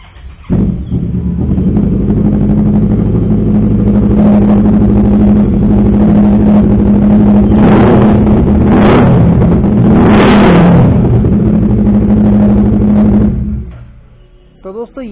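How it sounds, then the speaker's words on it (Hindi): A Kawasaki Ninja 650 fitted with an SC Project exhaust idles with a deep steady burble, then gives three sharp throttle blips in quick succession before settling and fading out near the end. "दोस्तों ये था इसका एग्जॉस्ट साउंड।"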